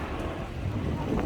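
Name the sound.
wind blowing on a cold night in London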